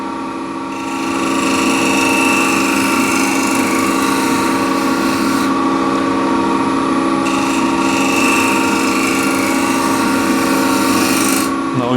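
A scraper lightly scraping a rough patch of wood spinning on a lathe gives a steady, continuous, fairly loud rasping drone with the lathe's hum beneath, running unbroken for the whole stretch.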